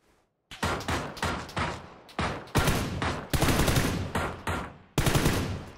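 Automatic gunfire in a duo shooter game, loud close bursts repeating one after another after a brief quiet start, each rattle cutting off sharply before the next, with no talking.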